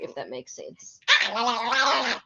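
A pet dog gives a sustained, whining bark that cuts in loudly after a person's short stretch of speech and carries on steadily to the end.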